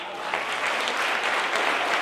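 Audience applause at a public debate with Sabina Guzzanti in Brescia, dense steady clapping from a crowd filling the room for the full two seconds without a break.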